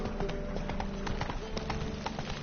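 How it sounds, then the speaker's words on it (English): Horse hooves clip-clopping steadily from a ridden horse in The Witcher 3 video game, a continuous rhythmic patter over a dense game soundscape. "Whoa there, Roach"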